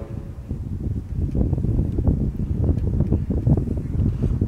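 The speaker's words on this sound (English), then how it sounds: "It's windy." Gusts of wind buffet an outdoor microphone, a low rumbling roar that swells and surges unevenly throughout, with no voices.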